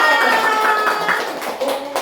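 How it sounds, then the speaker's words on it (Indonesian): Group hand clapping from participants at an Indonesian teacher training session, a dense continuous patter of claps heard fairly close, steady throughout with slight swells. "Bagi tepuk tangan untuk kita semua."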